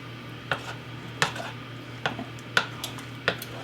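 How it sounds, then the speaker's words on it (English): A utensil stirring macaroni and cheese sauce with broccoli in a pot, giving about five light, evenly spaced clinks and taps against the pot over a faint background hum. "I'm just going to stir that"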